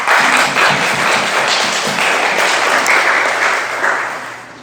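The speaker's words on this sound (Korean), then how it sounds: "하나님께 영광의 박수 드리겠습니다." A church congregation at a Sunday worship service claps in sustained, dense applause that holds steady and loud for the whole stretch, with no speech over it.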